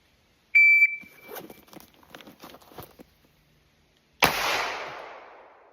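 A shooting-range timer gives a sharp electronic beep, followed by a Canik MC9 pistol firing, with soft handling noises between them and a loud report ringing out near the end.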